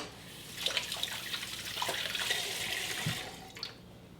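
Hands are washed under a running kitchen tap, with water streaming and splashing steadily at a fairly quiet level and a few brief sharper splashes.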